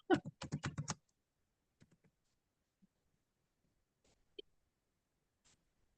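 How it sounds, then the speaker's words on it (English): Quick bursts of keystrokes on a computer keyboard, a rapid cluster up close at the start followed by a few sparse, isolated clicks in a quiet room. "Hold on, I'm typing."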